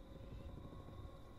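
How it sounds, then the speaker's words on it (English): Helicopter rotor drone from the war survival video game This War of Mine, a steady low rumble with faint tonal hum that holds at an even level throughout, sounding distant and continuous with no talk over it. "Ooh, I hear a helicopter or something."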